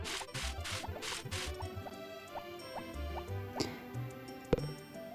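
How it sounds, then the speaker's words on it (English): Water trickling and dripping from a watering can onto crops in Harvest Moon, with a rapid series of small plops and ticks, then a sharp thwack near the end. "Just watering the crops as always."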